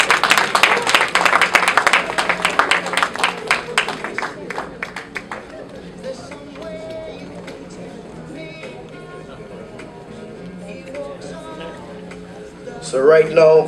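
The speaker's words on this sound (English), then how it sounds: "Big round of applause for Cassandra George." An audience at a 2017 awards ceremony and dinner applauds Cassandra George of the Shagaramas, loud clapping for about four seconds that fades into a murmur of crowd chatter and background hum before a voice briefly returns.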